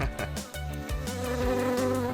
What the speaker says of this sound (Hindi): मक्खी ना जाने क्यों आ रही है।